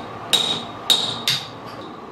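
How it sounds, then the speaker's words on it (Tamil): A hammer strikes poured lead into a wet grinder, four sharp metallic clanks spaced about half a second apart, loud and close with a bright ringing edge. "இதான் ஈயம் ஊற்றி அடிக்கிறது."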